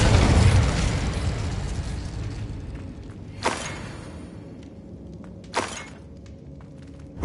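Fiery spell cast in a video game, two sharp bursts with a crackling whoosh rising over a low rumbling roar that fades from loud to steady.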